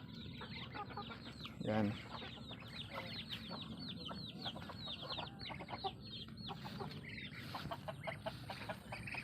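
Chickens, including bantams, cluck and chatter steadily nearby alongside ducks, with a brief louder squawk, while a person speaks a word over the flock.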